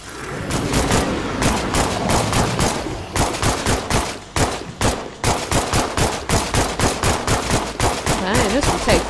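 Heavy automatic gunfire in State of Decay 2, long loud bursts of close shots with a rapid, steady rhythm broken by short pauses, running almost continuously.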